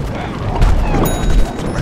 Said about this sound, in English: Oh, dang, I died by explosion.